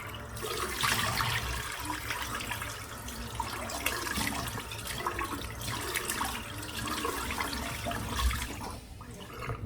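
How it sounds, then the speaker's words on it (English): Cold tap water splashes onto a face at a bathroom sink during a wet shave, a close, continuous run of splashing and trickling that lasts the whole stretch with small surges. "I've just splashed cold water on my face there"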